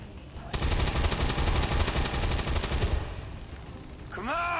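An XCOM 2 squad soldier fires at a landed UFO site: a rapid, evenly spaced burst of loud automatic shots that runs for a couple of seconds, then fades, followed by a brief warbling electronic tone.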